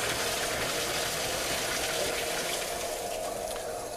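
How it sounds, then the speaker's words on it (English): Water drains through the main drain at the base of a dry pipe sprinkler valve riser, a continuous, even rush of flowing water with no pauses. "We drain the water from our sprinkler riser through the main drain on the base of the dry pipe valve."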